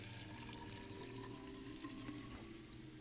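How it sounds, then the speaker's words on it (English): In the video game Fran Bow, water pours steadily into a cooking pot, a continuous faucet-like rush heard alone at moderate level. "Water in the pot, ready to cook."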